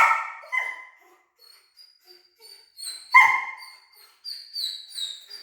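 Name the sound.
young puppy barking during training demo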